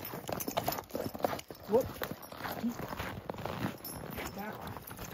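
Horse hooves clip-clopping at a steady walk on a forest floor during horse logging, close and moderately loud, with a person speaking and giving commands over the footfalls.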